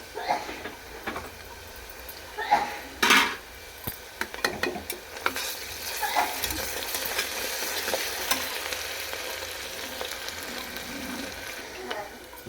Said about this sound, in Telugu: ఈ ఉల్లిపాయ ముక్కలు దూరంగా వేయించాలి ఇప్పుడు అల్లం వెల్లుల్లి పేస్ట్ వేసుకోవాలి